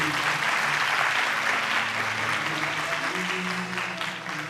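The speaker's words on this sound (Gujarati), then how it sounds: "એમના માટે તાળી થવી જોઈએ." A seated audience at a seminar claps for an elder who sat on the floor, giving steady, full applause that fills the room and tapers slightly toward the end.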